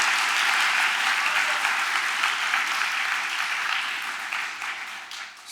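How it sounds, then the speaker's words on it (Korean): Audience applause at a school entrance ceremony, a dense sustained burst of many hands clapping that fades slightly toward the end. "여러분 박수 한번 안 쳐줘요?"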